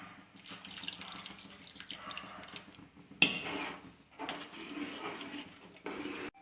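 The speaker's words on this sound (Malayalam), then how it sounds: "കുറച്ച് വെള്ളം കൂടെ ചേർത്ത് കൊടുക്കാം" Water runs from a tap or jug into a pot of wheat kheer, a steady close pour broken by a brief pause and a clunk before flowing again.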